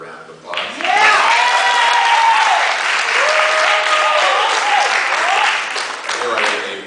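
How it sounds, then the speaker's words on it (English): A crowd at a ward candidate forum applauds the moderator, sustained loud clapping with cheering and raised voices layered on top, tapering slightly at the end. "I think we should give her a round of applause"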